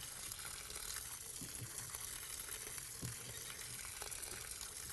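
Water pours steadily into a soil furrow in a vegetable garden where lima beans are being planted, a continuous close rushing and splashing that runs unbroken throughout.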